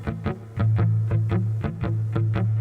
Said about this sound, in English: Now, a good old shuffle feel,